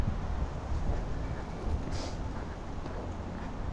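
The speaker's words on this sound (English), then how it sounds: "One of the windiest days I've walked" Strong wind buffets the microphone outdoors on a blustery day during a dog walk, after morning rain. It makes a steady, close rumble with gusty swells throughout and no clear talking.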